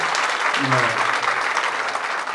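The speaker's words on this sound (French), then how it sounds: "Vos applaudissements, s'il vous plaît." Loud, sustained audience applause at a graduation ceremony, a dense continuous wash of clapping with a brief voice audible in the crowd.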